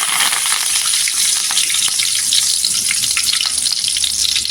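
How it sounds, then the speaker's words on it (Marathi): Loud, crackling sizzle of curry leaves frying in hot oil, steady and close throughout with sharp spitting pops. "तेल गरम झाल्यानंतर कढीपत्ता टाकायचा"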